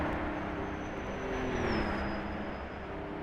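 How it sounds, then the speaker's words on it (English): Aston Martin DB3S racing car in a video game, its engine rumbling steadily with a smooth, sustained drone that shifts pitch slightly midway, no voices. "That rumble of that Aston Martin DB3S."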